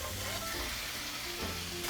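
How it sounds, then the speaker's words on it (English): Pork sizzles and fries steadily in a hot pan with squid and shrimp for a Filipino-style seafood paella, a dense continuous crackle with occasional stirring, close and moderately loud with no talking. "Now I'm gonna add the pork."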